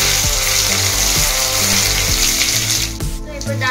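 Cumin and mustard seeds sizzle in hot oil, giving a steady, dense hiss that holds at an even loudness and eases off briefly near the end, with low tonal sounds underneath.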